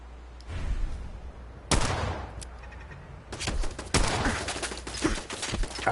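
Automated turret fire in Fallout 4, broken gunfire bursts at about 1.7 s and from 3.3 s onward, fairly close and loud over a steady game background hum, with no talking.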